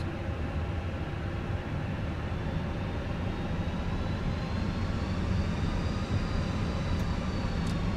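A Fenix A320 airliner takes off in Microsoft Flight Simulator. Its jet engines give a loud, steady roar with a rising whine, held without a break.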